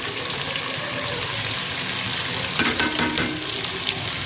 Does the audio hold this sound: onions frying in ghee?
yes